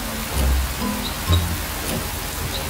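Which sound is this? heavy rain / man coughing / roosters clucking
heavy rain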